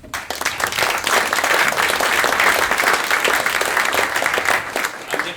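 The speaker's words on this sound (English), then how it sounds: "So please, give an applause." Sustained applause from a conference audience at a timber industry event, dense and steady clapping filling the room for several seconds before tapering slightly.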